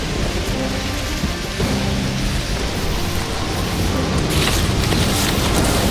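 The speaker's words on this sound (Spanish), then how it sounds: "¡Parece que va a llover!" Heavy rain falls steadily as a storm arrives outdoors, a dense, continuous hiss of drops on surfaces with low rumbling underneath, loud and close throughout.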